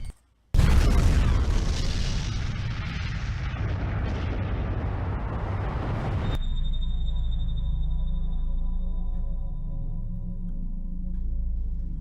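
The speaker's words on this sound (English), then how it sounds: "That explosion came from France, by the way." A huge, sudden explosion bursts in and roars on for several seconds, then gives way to a low rumbling aftermath with a thin ringing tone.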